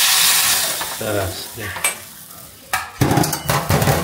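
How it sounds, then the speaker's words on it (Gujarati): Dal tempering with asafoetida, mustard seeds and curry leaves sizzling and popping in hot oil, with stirring clatter, a burst of spattering crackle in the second half, and a brief spoken word. "હિંગ અને રાઈ, લીમડો. ઓકે. વઘારાઈ ગઈ ને દાળ?"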